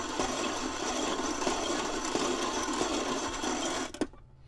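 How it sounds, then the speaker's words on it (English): Antique hand-cranked coffee grinder grinding coffee beans, a steady dense rasping crunch that runs close and loud for about four seconds, then stops abruptly with a final clunk. "they would sit here and grind their own coffee"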